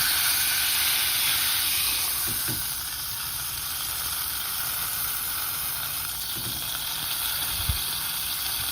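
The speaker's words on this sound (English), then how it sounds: "I really just wanted to reduce that fat down and get a sear on the sides" Steak fat sears in a hot pan with a continuous close sizzle and hiss, plus a few soft taps of tongs against the pan.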